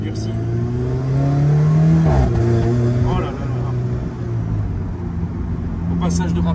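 An Alfa Romeo engine revs hard, its pitch rising and then dropping sharply at a gear change. It keeps droning afterward, loud and close inside the car, with voices faintly present.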